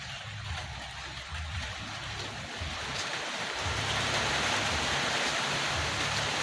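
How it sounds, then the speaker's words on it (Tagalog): Steady rain falling outdoors, a continuous hiss at moderate level that swells slightly toward the end, with a faint low rumble underneath and no talk. "So maulan pa rin tayo no."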